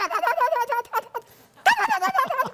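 A person imitates a turkey's gobble with loud, harmonic warbling bursts: one long trilling run, a short pause, then a second rapid gobbling stretch, all close and clear.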